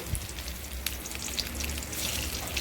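Chopped garlic frying in hot oil in the pan after fish for a prawn chutney, with a soft, steady crackling sizzle, faint and close, plus a few light taps and stirs and no talking.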